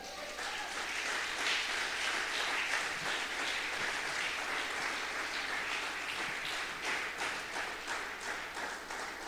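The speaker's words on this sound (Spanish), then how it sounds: "Dale un aplauso más a Él." A church congregation applauds at a Spanish-language worship service, a dense, steady wash of clapping that fills the whole stretch without pause, moderately loud and slightly uneven in intensity.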